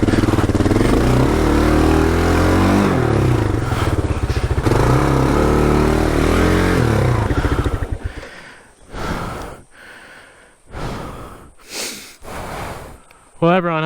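An adventure motorcycle revs loudly and steadily while churning through slippery mud on a hard trail in Australia, then the engine cuts out, leaving short bursts of heavy breathing and effort sounds close to the microphone.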